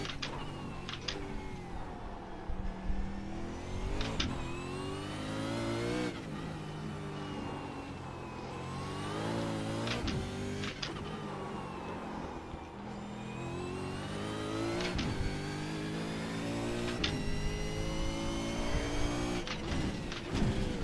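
V8 Supercar engine in iRacing on the Long Beach street circuit, revving hard and continuously with repeated gear shifts, rising and falling pitch, and brief lifts under braking for the whole run, loud and close with no talking.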